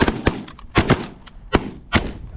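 A rapid volley of about six close, sharp gunshots from several hunters firing at mallard ducks during a duck hunt, in quick irregular succession.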